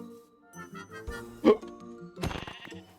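A sheep bleats in a survival video game set amid a tornado, a couple of short wavering bleats close by over soft game ambience and jingly background music, with no talking.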